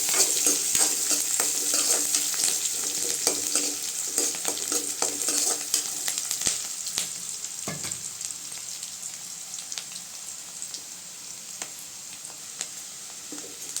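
Onions and curry leaves sizzle as they sauté in a pan for bottle gourd kootu, a steady close frying hiss broken by intermittent scrapes and taps of the stirring spoon, with no talk.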